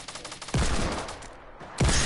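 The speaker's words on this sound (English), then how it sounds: "I'm gonna use the tactical SMG." Rapid tactical SMG fire rings out in a video game shooter as two loud close bursts of automatic shots, separated by a short quieter stretch with no talk.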